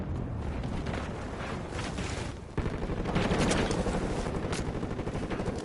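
Shotgun fire in the Modern Warfare beta on PS5, a dense run of loud gunshot blasts and rumbling bursts that swell and carry on continuously without any talk.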